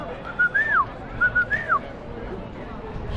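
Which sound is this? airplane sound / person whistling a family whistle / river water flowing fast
person whistling a family whistle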